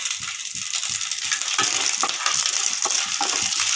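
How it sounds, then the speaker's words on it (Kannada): Chana dal roasting in hot oil in a pan after mustard seeds and cumin, a steady close sizzle with small crackles and rhythmic stirring scrapes. "ಅದು ಕಡಲೆಬೇಳೆ ಚೆನ್ನಾಗಿ ರೋಸ್ಟ್ ಆಗಬೇಕು"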